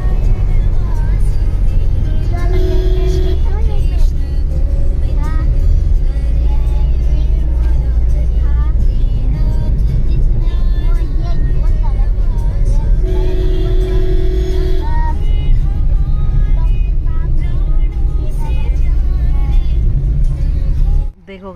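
A car driving off, a steady loud engine rumble and road noise lasting throughout, with brief tonal horn-like sounds and faint voices in the background.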